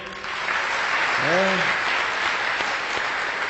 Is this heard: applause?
yes